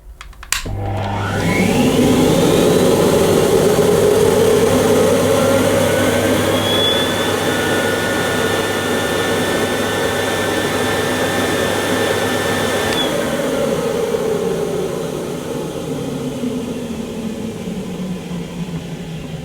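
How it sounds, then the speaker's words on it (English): A Hoover Sensotronic S3134 Total System 5 vacuum cleaner runs a sealed suction test, its loud motor roaring up to a steady high whine with a rising tonal pitch, then spinning down as the note falls away. "we'll find out the sealed suction of this Hoover Sensotronic."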